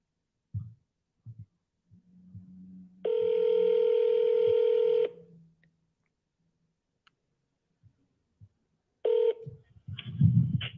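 Faint clicks, then a steady two-second phone tone and a brief second tone, followed by a burst of rustling noise up close.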